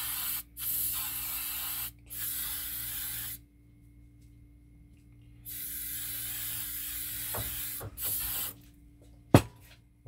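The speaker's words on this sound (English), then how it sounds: "Put some hairspray on." Hairspray from an aerosol can hisses in several long bursts, applied to model-railway foliage pieces, with short silent gaps between bursts and a few small knocks near the end.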